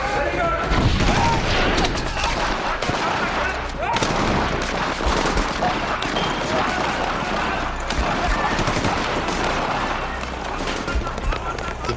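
Gunfire rattles nonstop during an armed raid on a house, dense overlapping bursts and shots with heavy blasts mixed in, loud and chaotic throughout.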